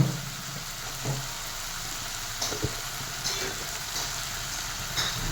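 Food sizzling and frying in a pan while being sautéed with salt and asafoetida, a steady close hiss broken by a few soft clicks and stirring scrapes, with no talking.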